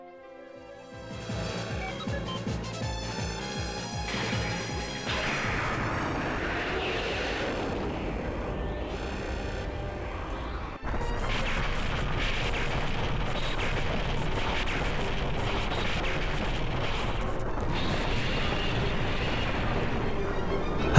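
Exploding Rugname mothership in the video game Metal Slug 3, a loud sustained roar of blasts and rapid booming fire that builds up and grows denser partway through, heard alone without speech.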